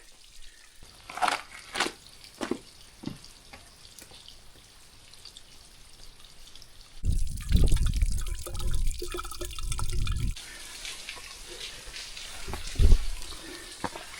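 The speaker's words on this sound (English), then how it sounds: "it's dripping down here, coming from up there" Water dripping from the rock of a rock shelter, sparse single drops plinking close by in a quiet space, with a stretch of louder rushing wind or rain noise partway through.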